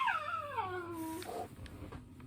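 A dog whimpers nearby in a home: a high, falling whine drawn out over about a second, followed by quieter breathing and faint household noises.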